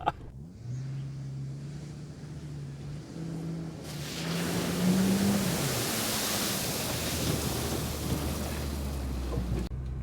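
A Ford truck with a V10 engine churns through an off-road water crossing: a low engine hum rises into a steady rushing wash of water and spray that holds loud to the end.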